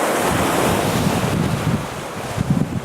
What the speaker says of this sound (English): waves are getting a little bit splashy